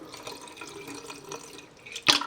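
Bleach is poured out of a container into a sink, a soft steady trickle of liquid splashing against the basin, ending in one brief louder splash near the close.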